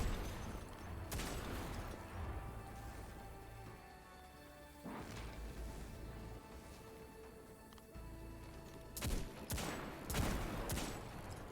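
Hand cannon fire in the video game Destiny: loud, sharp shots sound in scattered bursts, with a cluster near the start and another volley toward the end over a dense, busy game soundscape.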